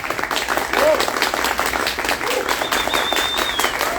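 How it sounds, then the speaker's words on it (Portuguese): An audience at a panel on informative children's books applauds, steady dense clapping at moderate volume, with voices talking over it throughout. "vamos palmas para a Júnia, né?"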